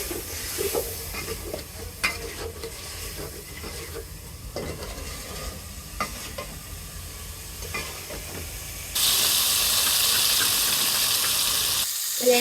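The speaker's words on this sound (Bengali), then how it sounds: "এই জায়গায় পানি দিয়ে দিব মাছগুলো ভালো করে কষানোর জন্য।" Rohu fish heads sizzle in a pan as they are stirred and scraped, with soft clinks and frying crackle, then a louder, steadier hiss of water being added partway through.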